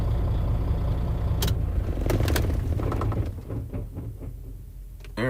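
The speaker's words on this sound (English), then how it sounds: "Now you won't have the engine noise." A parked car's engine idles with a low, steady rumble. It winds down about three seconds in, and scattered clicks and knocks follow in the quieter cabin.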